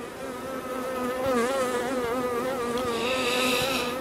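Honeybees hum close by during an August apiary hive check before winter, a continuous buzz with wavering pitch that grows slightly louder midway as individual bees pass near.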